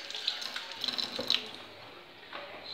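Tap water runs steadily into a kitchen sink while a carrot is rinsed, a close hissing stream with small splashes and clinks as the vegetable is handled, and no talking.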